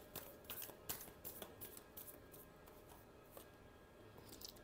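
Tarot cards being shuffled by hand: a quiet run of papery riffles and soft flicks, with several sharper snaps scattered irregularly through the stretch.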